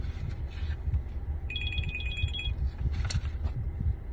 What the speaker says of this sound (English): Okay, sorry, I had a phone call.